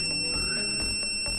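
A Samyung SART AIS SAR-16 in test mode, a steady high electronic tone with repeated short pulses and thumps, heard close and alone for about a second and a half.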